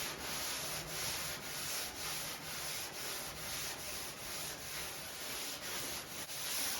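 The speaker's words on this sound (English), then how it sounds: "This is an old Norton sandpaper, so we'll see how it does." Steady back-and-forth rasp of old Norton sandpaper block sanding primer surfacer on a C20 truck body, rhythmic strokes repeating about once per half second, quiet and close with no talking.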